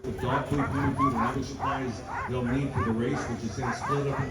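A dog whimpers and yips in short, repeated high whines at a snowy, windy sled dog race held in Balto's honor, with people talking nearby throughout.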